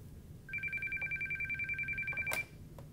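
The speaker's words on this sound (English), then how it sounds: "dial 9 plus the 10-digit number you wish to call" A sequence of DTMF tones from keying in a 10-digit outside number on an NEC SV9100 office phone, steady evenly spaced beeps over a faint background hum, ending in a brief louder click.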